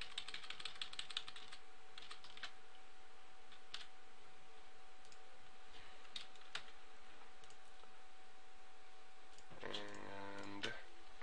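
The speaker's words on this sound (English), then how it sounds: "hold down shift and use your arrow keys to nudge this guy over here" Computer keyboard keys tap in scattered, light clicks while shift and arrow keys nudge an object in Photoshop, with a quick burst of rapid taps near the end; a voice speaks at points.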